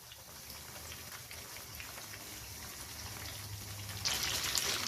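Masala fish frying in a pan over medium heat for a Lahori-style fish fry, a steady close sizzle and crackle throughout, swelling brighter and louder near the end as the pieces are turned.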